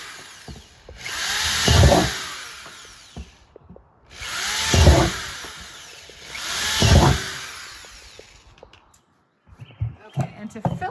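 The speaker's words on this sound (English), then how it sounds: "I'm going to drill the holes in the bottom of the planter." A power drill boring holes in the bottom of a planter, three separate whirring bursts of a few seconds each, close and loud, with quiet gaps between them and a voice talking briefly at the end.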